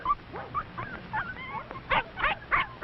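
Puppies and a grown red setter in an old 1952 film soundtrack: a run of small yips and whimpers, then three sharp bark bursts near the end, close and fairly loud.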